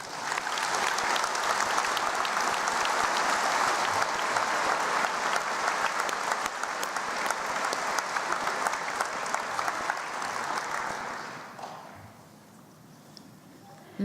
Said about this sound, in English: Please join me in applauding our graduates' achievements today.